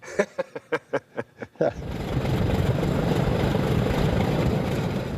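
A series of sharp piston-engine coughs and pops as a B-29 bomber's four radial engines start, then a big radial engine catches and settles into a loud, steady, rumbling roar.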